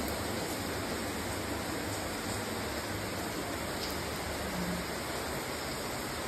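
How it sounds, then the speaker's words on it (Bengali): Heavy rain pours steadily outside a balcony, with water blowing onto it: a dense, even hiss that fills the whole stretch without letting up, and no voices. "বাইরে মুষলধারে বৃষ্টি শুরু হয়ে গেছে আর ব্যালকনিতে জল এসে পড়ছে"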